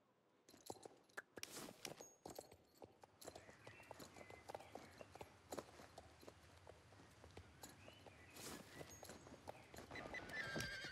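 Horse hooves clip-clop steadily in the Star Stable online riding game, joined by loud neighs and whinnies, with footsteps and a rising, busy texture toward the end.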